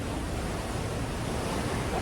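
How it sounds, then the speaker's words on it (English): Ocean surf at a beach in Costa Maya, Mexico washes in a close, steady rush of water mixed with some wind buffeting the microphone, with no voices. "You can hear the water, right? It's relaxing, right?"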